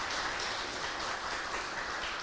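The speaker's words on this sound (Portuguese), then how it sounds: "Queria que vocês recebessem eles com uma salva de palmas aqui" A church congregation gives a steady wash of applause, dense and even, heard at a fairly faint level without any speech on top.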